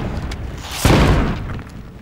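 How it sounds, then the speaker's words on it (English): A rocket blast in the military shooter Project Reality, one heavy booming explosion bursting out near midway and rolling off over a second, with background battle noise around it. "they're firing rockets at us now"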